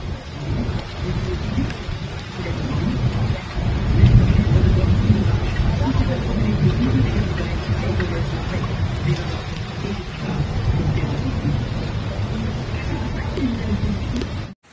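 Hailstorm with heavy rain and thunder over flooded Paris streets, a loud continuous roar of rain with deeper rumbling swells, filling the whole stretch before cutting off abruptly at the end.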